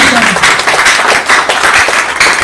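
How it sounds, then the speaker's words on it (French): A church congregation breaks into loud, continuous applause during a sermon, a close, bright wash of clapping with voices mixed in. "Clap for Jesus Christ. Applaudissez."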